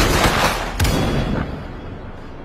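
Guards open fire on a horde of cave creatures at a main gate, a dense burst of gunfire crackling for the first second and a half, with a sharp loud shot near the middle, then a fading rumble.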